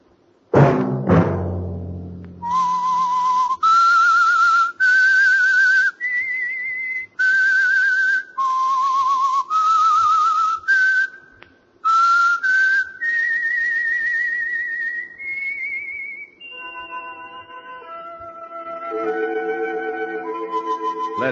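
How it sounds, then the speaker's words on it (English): A solitary whistler carries the eerie theme of The Whistler radio mystery program, a string of clear sustained notes climbing step by step, close and alone after a brief opening chord. "Let that whistle be your signal for the Signal Oil program, The Whistler"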